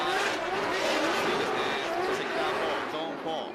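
A drift car engine roars continuously at high revs with tire noise at a D1GP drift competition in Odaiba, Tokyo, loud and sustained, while a voice talks over it.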